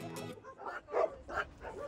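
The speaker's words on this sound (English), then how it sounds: "We are taking in 10 dogs, possibly more, all the way from Texas." Rescue dogs brought from Texas give several short barks and yips in quick succession, fairly faint and close by.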